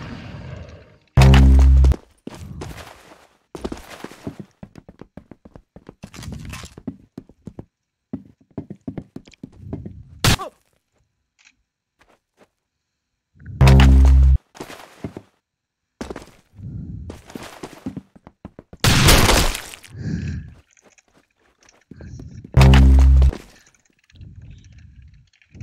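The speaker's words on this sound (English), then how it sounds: "Very good shooting." Gunshots in the Roblox game Arsenal ring out as sharp, loud cracks in short bursts and single hits, separated by quieter stretches with clicks and scattered game noises.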